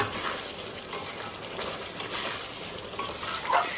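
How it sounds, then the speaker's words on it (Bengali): Spices sautéing in mustard oil for a jackfruit curry make a loud, dense, continuous sizzle and crackle, with faint stirring scrapes and no voices. "দিয়ে এটা ভালো করে এখন কষিয়ে নেবো"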